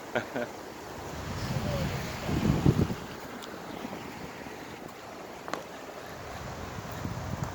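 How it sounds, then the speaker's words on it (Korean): Wind gusts across a riverside bike path along the Han River, a steady rushing hiss with a heavier buffeting swell near the middle, no one talking. "한강바람이 시원하게 불고 있는 한강 자전거 길입니다"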